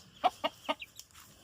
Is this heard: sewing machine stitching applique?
no